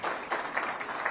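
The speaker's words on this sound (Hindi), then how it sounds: "बार जोरदार तालियां" Audience at a Haryana government award ceremony clapping: a brief, dense burst of applause from many hands, steady and fairly loud, heard alone.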